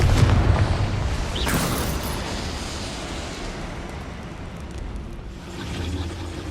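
A Confringo spell explosion in Hogwarts Legacy hits with a heavy boom at the start, then fades into a long rumbling wash of noise.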